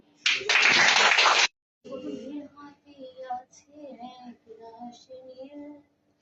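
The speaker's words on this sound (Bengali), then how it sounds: "সবাই হাততালি দাও" A group of people claps in a dense burst for about a second, then stops and a voice begins singing a Bengali song about the homeland.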